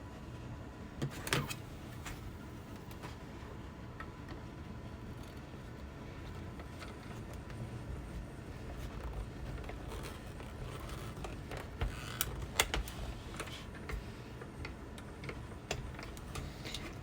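A small hand-cranked card-making machine is turned, giving a run of soft ticking, clicking mechanical sounds with a few sharper knocks, fairly quiet and close, no speech.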